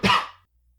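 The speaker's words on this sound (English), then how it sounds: "replied the constable, coughing with great violence" A single sharp, harsh cough from a man, loud and close, dying away quickly.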